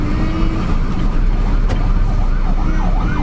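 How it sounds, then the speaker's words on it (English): A wailing ambulance siren rises and falls in the distance over steady road traffic noise in the Philippines, faint beneath the rumble of passing cars. "And there's an ambulance."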